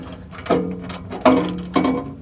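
Metal bolts on a Miller Cat Shield catalytic converter guard under a 2010 third-generation Prius being tightened, giving three sharp, close mechanical clicks spaced apart, each followed by a brief ringing tail.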